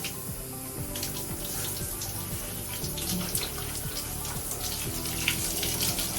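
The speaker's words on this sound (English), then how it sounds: "I take the hair down from the twist, rinse it out" Steady running water from a tap while hair is rinsed out during a wash-and-go routine, a continuous close hiss and splash with a few brighter drips and spatters, with no voices.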